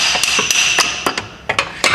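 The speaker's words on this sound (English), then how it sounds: "we're just going to get a small hammer and try to hit it to get it" A small hammer striking a rusted CV axle on a VW Passat or Audi A4, sharp metallic taps in an irregular series of about a dozen hits, close and loud, with no voices.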